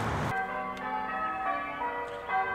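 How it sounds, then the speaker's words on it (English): Church bells ring for a wedding, struck tones sounding in succession and sustaining with long decays, clear and moderately distant after a brief noisy onset. "The wedding bells are ringing."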